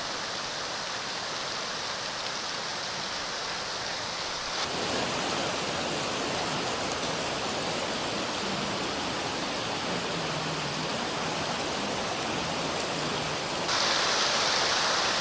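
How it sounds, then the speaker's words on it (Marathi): Heavy rainwater gushes through city streets in a downpour, a loud, steady broadband rush that shifts slightly in tone partway through and again near the end, with no voices. "शहरातील रस्त्यांवरून यावेळेस मोठ्या प्रमाणात पावसाचं पाणी वाहत होतं."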